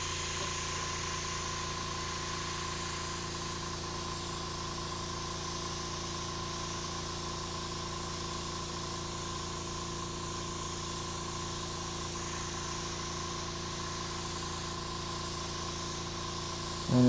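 Airbrush spraying black paint onto a marker rendering of a Ferrari 275 GTB, a steady, even hiss over a constant compressor hum that runs unbroken and close for the whole stretch.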